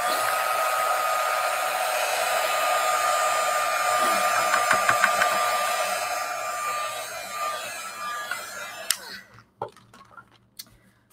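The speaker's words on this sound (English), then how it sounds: "heat gun and dry it" A heat gun blows with a steady whining roar while drying a watercolor painting, close and loud, then switches off near the end, leaving scattered small handling clicks.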